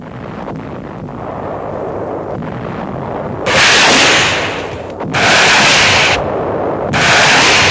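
WWII counter-battery artillery fire during the seaborne assault on Walcheren's western shore, on archival film: three loud, sustained bursts of harsh, crackling noise break over a constant rumbling film hiss, each lasting about a second.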